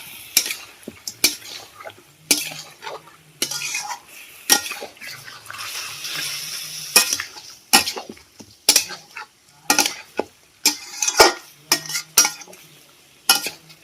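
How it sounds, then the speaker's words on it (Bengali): Chicken curry being stirred in a pot after the lid comes off, with repeated scraping clinks of a spoon against metal and a soft sizzle underneath, loud and close in irregular bursts. "বন্ধুরা এবার আমি ঢাকনাটা খুলে একবার নেড়ে নেবো।"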